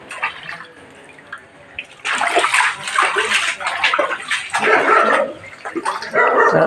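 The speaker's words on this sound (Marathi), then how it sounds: "पाणी येत आहे आणि वस्तीमध्ये शिरत आहे" Rainwater floods into homes in the Gokul Nagar Vidi Gharkul housing colony, rushing and splashing loudly and continuously, with a dog barking nearby at times.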